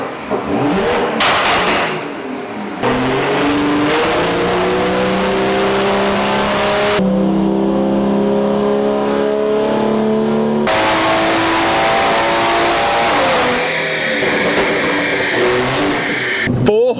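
A Stage 2 tuned car engine revs hard through a dyno power run, loud and close, with the note climbing in rising sweeps, a steady high-rpm hold in the middle, then a fresh climb; voices speak faintly beneath it.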